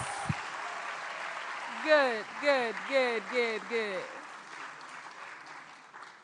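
Students on a juniors quiz-show challenge receive a steady wash of audience clapping that runs throughout, while a voice chants one word over it several times.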